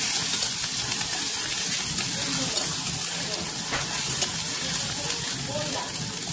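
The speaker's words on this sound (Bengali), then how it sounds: "এই যে মাংসগুলোকে একটু ভেজে নিতে হবে ভালো করে।" Pigeon meat fries in a pan, giving off a steady, dense sizzle that runs without a break.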